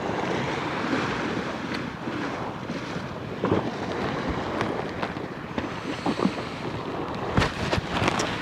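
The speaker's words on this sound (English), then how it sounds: "very high tide splashing up against the seawall" High-tide waves on a Thailand beach splash and wash against a seawall in a continuous loud roar of surf, with sharper splash bursts and some wind buffeting on the microphone.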